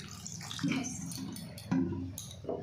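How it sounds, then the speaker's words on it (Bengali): Water splashes into a pot of potatoes being cooked for a vegetarian curry, in two short bursts with light clinks of the pot between, up close in a home kitchen. "এতে সামান্য জল দেবো আলুগুলো সেদ্ধ হওয়ার জন্য"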